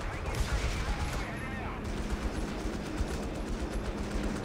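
Gunfire crackles in the Company of Heroes 3 video game, a continuous rattle of rifle and machine-gun shots heard at a distance beneath battle noise, with bits of voice in the mix.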